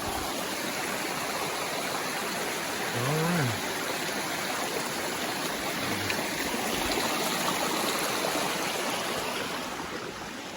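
A mountain stream at a trail crossing on the Appalachian Trail rushes loud and close in a dense, continuous wash of flowing water.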